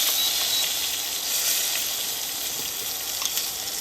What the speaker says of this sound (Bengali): এবার তেলটা গরম হলে দিয়ে দেবো তেজপাতা